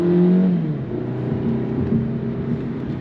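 A 2022 Hyundai Elantra Hybrid Limited accelerates, heard from inside as a steady engine and road drone with a falling whine at first, no talking.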